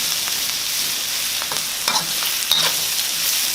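Egg being stir-fried in a pan gives a steady, loud sizzle throughout, with a few sharper scraping stirs near the middle and no talking.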